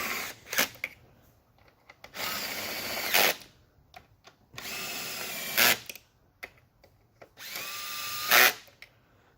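Power tool driving bolts on the 3.0L throttle body of a Buick LaCrosse, three close bursts of whirring that each end in a sharp ratcheting clatter, separated by short pauses and small clicks.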